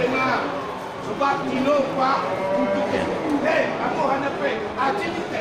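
Water buffalo low and moo repeatedly at a busy livestock market selling bulls for slaughter, deep drawn-out calls overlapping with background voices.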